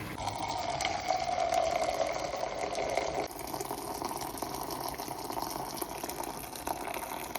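Cooked rice being drained of its starchy rice water (kanji), a steady pouring, splashing stream that runs loud for about three seconds, then continues slightly softer and more even to the end, with no talking.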